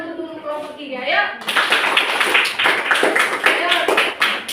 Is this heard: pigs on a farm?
no